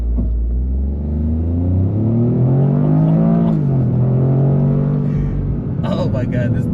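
A 2025 Toyota GR Corolla engine revs hard and climbs in pitch under hard acceleration, the exhaust roaring loudly and close, then dips and settles into a rumble.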